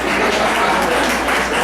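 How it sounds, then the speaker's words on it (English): Audience at a company kickoff event applauding, a brief, loud, dense burst of clapping close by with some voices mixed in. "that deserves a real round of applause"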